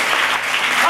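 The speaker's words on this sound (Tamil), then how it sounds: "கைத்தட்டி கர்த்தருக்கு நீங்க பார்க்கலாம்" A church congregation claps together during a worship service, a dense, steady wash of hand claps filling the brief moment at full strength.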